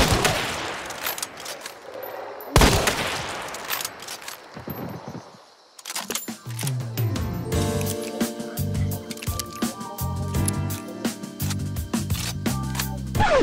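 Shotgun blasts and other weapon fire in the zombie shooter video game Killing Floor. Heavy, punchy shots come first with pauses between them, then a long stretch of rapid, sustained gunfire mixed with clanking game effects.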